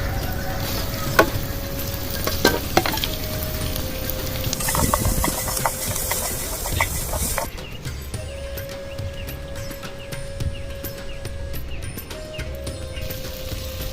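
Green chillies and onion fry in a pan: a continuous sizzle with clanking stir strokes early on, then the hiss settles into a steadier, quieter crackle.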